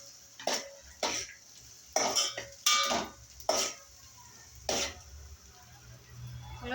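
Onion and green chili are stirred in a pan for kulith pithi, a spoon clinking and scraping against the pan in about six distinct strokes over a low background hum.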